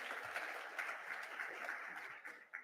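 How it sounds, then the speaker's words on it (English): Audience applause at a youth mental health symposium, a steady wash of many hands clapping at moderate distance, fairly quiet and continuous throughout with no talk over it. "just another really big round of applause for all of the great voices today"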